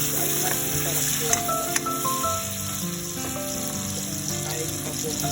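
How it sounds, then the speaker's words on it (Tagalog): Tomatoes sauté in a pan with garlic and onion, giving off a steady, close sizzle with a few light clinks and stirring sounds and no talking over it. "Sa luto ng bawang sibuyas, syempre lagay na po natin ang ating kamatis."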